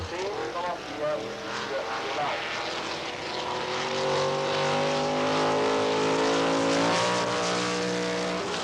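Classic race cars, a Cobra and a Ferrari, charging neck and neck on a track, engines roaring with rising and falling pitch under a commentator's continuous voice.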